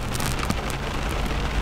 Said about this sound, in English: I'm just going to go ahead and get ready in the rain.